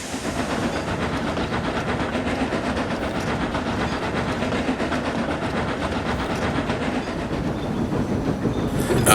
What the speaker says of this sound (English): the diesel left with a rather loud rumble